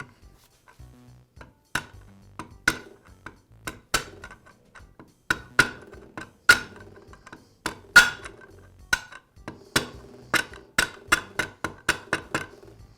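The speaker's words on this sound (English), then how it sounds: "I'll tap the bearing in place using a socket." Metal socket tapping a bearing into the gearbox of a Milwaukee reciprocating saw, heard as a series of sharp, bright metallic taps, irregular at first then quicker and steadier, close up with no talking.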